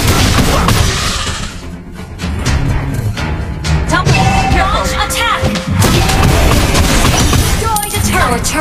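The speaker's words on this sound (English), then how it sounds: "Turret has been destroyed." A turret being destroyed in the Mobile Legends mobile game during a busy late-game fight, with loud repeated booms, crashes and impact thuds layered with game effects and an in-game announcer voice.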